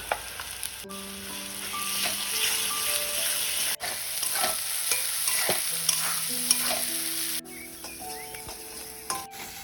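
Ground spices, Kashmiri chilli powder, meat masala, cumin and coriander, stir-fry in a pan for an egg potato chop filling, a close steady sizzle broken by scraping stirs and a few sharp utensil knocks, no talk.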